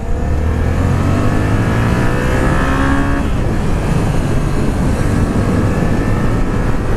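A Yamaha FZ-07 motorcycle accelerates on a road. The engine is loud and close, its rising rev climbs steadily through the gears over a constant rush of wind.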